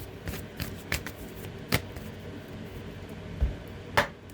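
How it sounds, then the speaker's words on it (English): A deck of tarot cards shuffled by hand, with soft scattered riffles and taps close by over a quiet room hum, several brief bursts spaced unevenly and no voices. "Okay, let's get a good shuffle."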